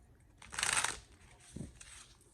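A quick burst of tarot cards being riffled and shuffled, a crisp papery flutter lasting under a second, followed by a soft tap and faint handling noises.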